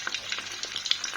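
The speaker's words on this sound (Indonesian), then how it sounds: "gorengnya sedikit-sedikit" Food fries in a hot pan a few pieces at a time, a soft, steady sizzle with light crackles and small pops, fairly quiet and with no voices.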